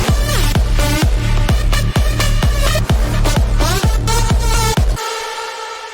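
Big room EDM drop with processed synth leads over a pounding four-on-the-floor kick: loud, dense and steady, with bright wobbling lead stabs on top, cutting to a thin fading tail near the end.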